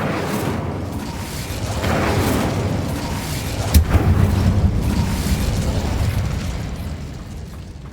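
The Incendio fire spell cast in Hogwarts Legacy bursts into a rumbling boom with a sharp crackling pop partway through, then settles into a sustained low roar with soft music underneath.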